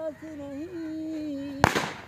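A single sharp bang from a firecracker set off by children on Eid bursts out near the end, after a stretch of high-pitched whining voices calling out.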